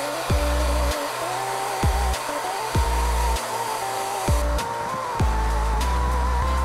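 A hair dryer blows steadily and loudly while drying hair for a Guile-style men's hairstyle set, with regular low thumping bursts about once a second as the airflow is moved through the hair.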